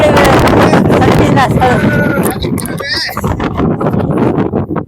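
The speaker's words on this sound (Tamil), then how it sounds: "காத்து பலமா அடிக்குதுல்ல." Strong wind at the Kolli Hills viewpoint buffets the microphone in heavy, gusty rumbles that ease toward the end, with people talking loudly over it.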